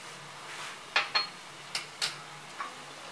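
A spoon knocks against a pan as raw mango jelly is stirred with fried spices, about five sharp metallic clinks spaced irregularly over a quiet background.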